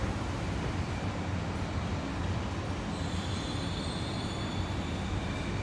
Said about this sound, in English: On the first light rail tram of the day.